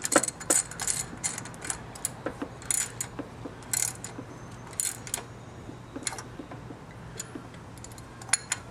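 Ratchet turning a 3/4 deep socket on the engine of a 1996 Chevrolet Impala SS during a water pump install, giving faint, rapid metallic clicks in short irregular bursts over a quiet background hum.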